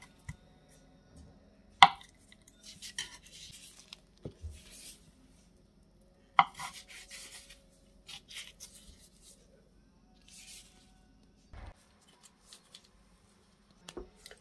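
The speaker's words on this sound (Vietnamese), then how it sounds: "Giờ nó cắt nhỏ ra nha bạn, cắt miếng miếng vậy nè." A knife chops soft, smooth chickpea tofu into small pieces on a cutting board, giving a few sparse, quiet taps and light scraping with pauses between cuts.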